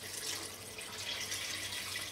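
Cold tap water runs steadily into a stock pot to cover beef bones, onion and red wine for a meat stock, a continuous close hiss and splash with no talking.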